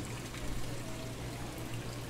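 A small waterfall pours steadily into an aquarium tank in a fish store, a continuous close splashing rush with no break.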